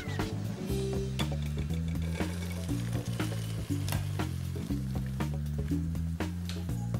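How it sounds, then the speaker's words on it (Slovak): A pike-perch fillet laid skin-side down in a hot pan with a dusting of flour sizzles steadily, a close and continuous frying hiss under background music. "A tou stranou, kde je koža, položíme na pánvicu. Z oboj strany opečeme."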